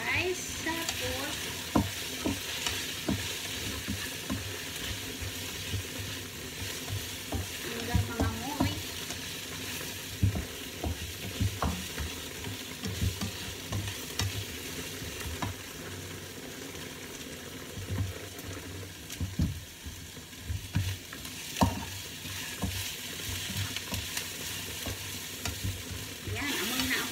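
Dried shrimp sautéing in a hot pan for a monggo dish, a steady close sizzle broken by frequent scraping stir strokes and clinks throughout, with no talking.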